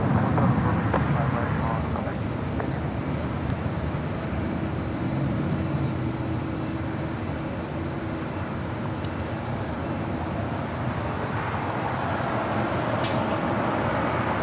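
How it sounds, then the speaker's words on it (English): An Airbus A350 airliner landing on the south side at LAX, a steady broad jet roar that holds loud throughout, with a voice talking over it. "Fiji Airways, the A350 coming in from Nandi, Flight 810, landing here on the south side."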